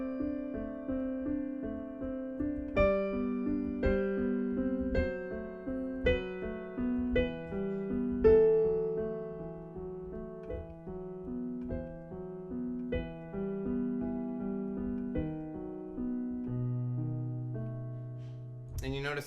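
Piano playing the Adagio of Beethoven's Moonlight Sonata, slow steady triplet arpeggios over low sustained bass notes, soft and close, easing into a slower ending with a single held low note.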